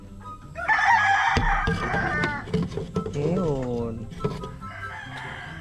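Black Star chickens on a farm cluck and a rooster crows in a rising, wavering call, close by, while a person speaks briefly over the flock.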